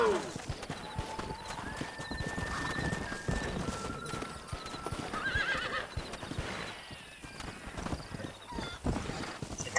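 Horse hooves clip-clop in Red Dead Redemption 2, mixed with a horse's whinny and game sounds, under a player talking over the action.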